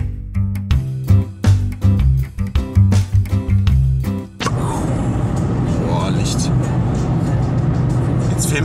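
A car drives toward a small town or village near the North Sea in Germany. After a stretch of rhythmic music, steady interior road and engine rumble takes over, with people talking over it.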